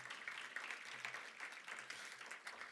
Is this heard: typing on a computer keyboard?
no